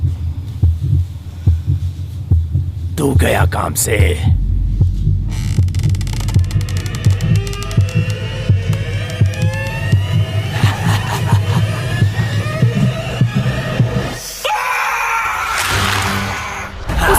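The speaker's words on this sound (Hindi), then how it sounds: "तुम्हारी धड़कन मुझे साफ साफ सुनाई दे रही है।" Heartbeat sound effect throbbing in a steady low pulse through most of the clip, loud and close, with a deep hum underneath and a brief voice speaking over it.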